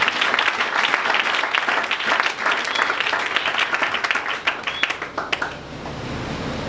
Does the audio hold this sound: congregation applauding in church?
yes